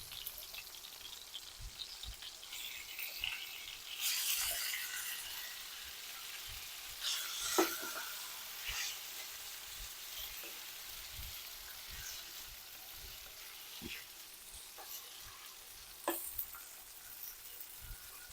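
Black squid-ink pasta sizzles steadily in a hot frying pan, a continuous crackling hiss with occasional sharper pops and stirring clatters, close and moderately quiet, with no one talking.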